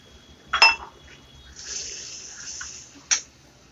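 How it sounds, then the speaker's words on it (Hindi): Water is poured into a pot of methi dal in a home kitchen, a soft hissing trickle lasting about a second and a half, framed by sharp metallic clinks of a utensil against the pot just before and after. "अब थोड़ा सा मैं पानी डालूंगी इसमें ताकि ग्रेवी भी अच्छी बन जाए दाल के लिए"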